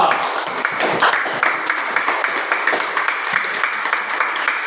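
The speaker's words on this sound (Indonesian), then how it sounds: "Tepuk tangan dulu untuk Tito." Students in an Indonesian-language class applaud a classmate, a loud, close burst of clapping from a small group with distinct individual hand claps, continuing steadily for several seconds without talk.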